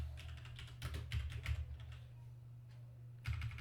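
Computer keyboard keys clatter in quick, uneven bursts while field names are typed into a Microsoft Access table, with short pauses between runs of keystrokes over a steady low hum.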